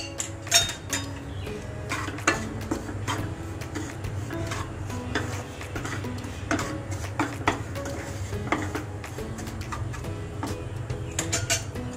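Amaranth sheera with sugar being sautéed in a pan, with a spoon scraping and clinking against the metal in an irregular run of close, bright ticks and taps.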